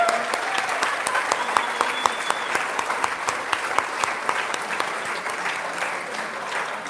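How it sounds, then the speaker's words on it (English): An audience at the Eastland Chamber Golden Deeds awards applauds award recipients, giving dense, steady clapping that sounds close and full and continues throughout without letting up. "Let's give them a round of applause"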